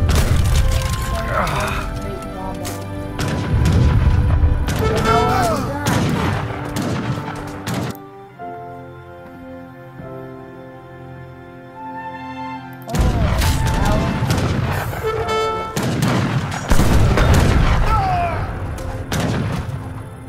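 Bombard cannon fire and a cavalry battle rage in the Age of Empires strategy game, with booming cannon shots and cracking gunfire in dense bursts, a quieter music lull in the middle, and voices speaking over parts of it.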